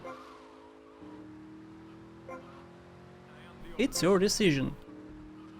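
A car drives in the video game GTA Vice City Definitive Edition, its engine droning steadily before a sharp burst of tire squeal near the end, with speech over it.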